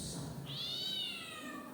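A cat lets out a single drawn-out meow, rising and then slowly falling, fairly clear over a steady background hiss in an indoor setting, with no one speaking.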